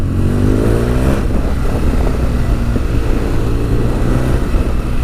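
A motorcycle engine running close by, a loud steady rumble with rising and falling revs and a brief swell near the start, heard alone without talk.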